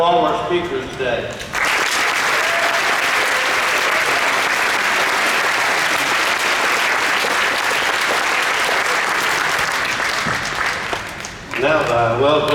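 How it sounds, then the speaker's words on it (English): A big round of steady crowd applause for the speakers at a Wellsville High School community Veterans Day program, loud and continuous for about ten seconds, with a voice speaking briefly before and after. "that big round of applause for all our speakers today."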